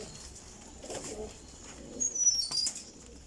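Teddy Ferozpuri flying pigeons give low, throaty coos while wings flutter briefly near the end, close and moderately loud against a quiet hiss, with no voices.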